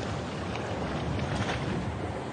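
Boat motoring slowly through Arctic waters near Svalbard, a steady broadband engine and water rush with wind buffeting the microphone, continuous and close throughout.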